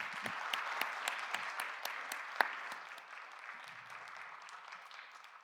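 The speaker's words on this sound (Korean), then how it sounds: "우리 청년부에 새롭게 온 자매들을 환영하며 환영의 박수 드리겠습니다." Welcoming applause for newly arrived young women at a Sunday church young adults' service, a congregation clapping steadily in a room, fading somewhat after a few seconds.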